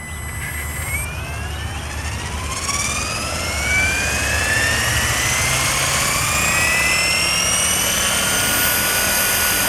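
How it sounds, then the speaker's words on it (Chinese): German handmade TDR model helicopter flying over a riverside floodplain, its rotor and engine whine loud and steady throughout, with rising and falling high-pitched tones as it maneuvers. "德国的直升机在高滩地。"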